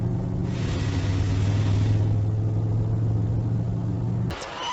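Mercedes-Benz W124 during brake system testing, a steady low engine and road rumble from the car held for several seconds before cutting off abruptly near the end.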